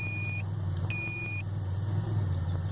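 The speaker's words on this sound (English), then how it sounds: "so it is beeping" A DeLorean electric thermostat unit gives two short, high, clean electronic beeps in a row over a steady engine-like drone.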